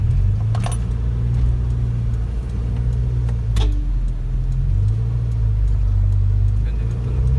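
Low, steady idle rumble of a Honda Civic VTi VTEC engine after a valve clearance adjustment, heard close up with a couple of sharp clicks over it and some background voices.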